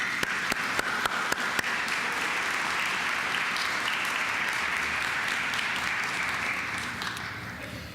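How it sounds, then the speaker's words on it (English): Sustained audience applause at a high-level opening ceremony for the South-South Cooperation Expo 2014, a dense wash of many clapping hands with a few sharp claps up front, steady then gently fading. "Let me ask all of you to welcome the personalities with a big round of applause."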